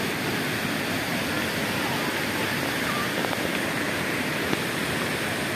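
Waterfall at Telunjuk Raung campground in Banyuwangi, a constant, loud broadband rush of falling water, close and unbroken, with no voices.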